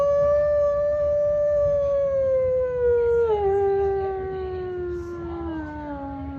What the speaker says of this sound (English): he suddenly heard an even more disturbing sound. The howling of wolves.